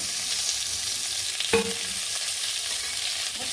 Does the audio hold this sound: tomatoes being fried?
yes